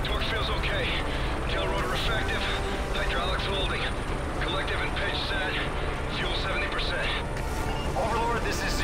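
A military helicopter rotor roars loudly in the Battle of New York mission of Call of Duty: Modern Warfare 3 while a pilot shouts over it, with explosions and gunfire under the steady drone.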